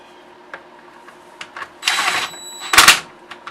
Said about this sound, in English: I'm not even going to get it to ratchet with my impact gun.